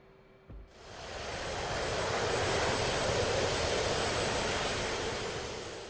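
An F/A-18C Hornet's jet engines in DCS World spool up to full power on a carrier deck, a faint hum swelling after a brief click into a loud, steady roar that holds and then eases slightly.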